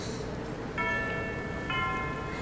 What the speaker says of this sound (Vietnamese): Tiếng chuông đồng hồ đổ.